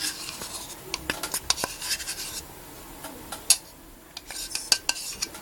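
A spoon clinks and scrapes against a bowl while mixing cornstarch and water, with irregular light taps and stirring strokes, close and fairly quiet.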